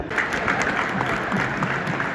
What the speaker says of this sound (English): A massive round of applause and nearly a standing ovation for Ozan